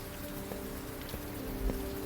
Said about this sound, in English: This friggin' rain.